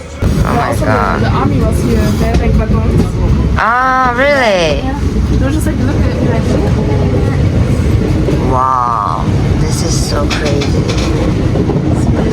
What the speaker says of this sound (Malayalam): ഇതെനിക്കൊന്ന് പാകിസ്ഥാൻ ബോർഡർ ഭാഗത്തോടൊക്കെ പോകുന്ന ട്രെയിൻ കൊറിയറും ആയിരിക്കും